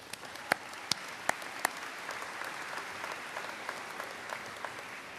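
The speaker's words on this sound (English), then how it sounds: "Give yourself a round of applause." Faint, scattered clapping from a small group at a college graduation ceremony, with a few sharp individual claps standing out over a soft, steady patter.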